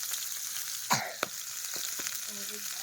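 Chicken egg sacs fry in a pan with ginger, garlic, onion and salt, giving a steady sizzle with a few sharp pops and spatters near the start.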